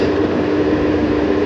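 Steady, even rumble and broadband hum of a Dhaka metro rail train on the Motijheel to Uttara North line at a station, continuous and fairly loud with no speech.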